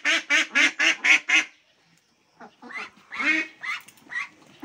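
Ducks being sold at a roadside spot quack close by, a rapid run of six loud nasal quacks, a brief pause, then more irregular quacking calls.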